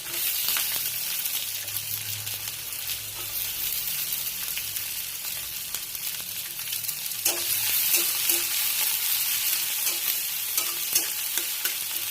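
Ginger and garlic sizzle steadily in hot oil as green chilies and chopped onion go into the pan, with continuous frying crackle and occasional stirring scrapes, close and fairly loud, no talking.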